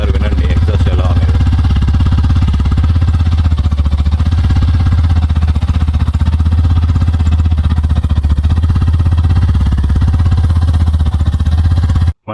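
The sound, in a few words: Hero Glamour X motorcycle exhaust note while idling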